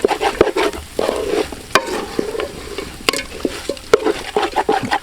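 Chicken sizzling and frying in a pan as curry leaves are tossed in, a steady close crackle broken by sharp stirring scrapes and clinks.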